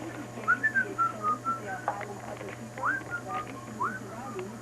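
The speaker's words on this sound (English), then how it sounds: "Whistle while you will." A person whistles a wavering, tuneful melody of short rising and falling notes over a steady low hum in a quiet room.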